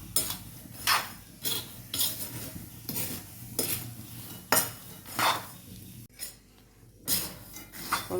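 Peanuts are stirred fast in a pan with a metal utensil, making a rapid run of loud scraping, rattling strokes about once a second, close and steady, with no talking.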